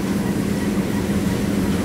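A mixing machine in a hot polyester factory churns with a loud, steady, rumbling drone and no pauses or voices.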